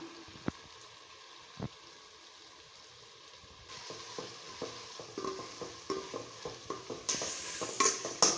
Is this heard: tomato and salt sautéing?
yes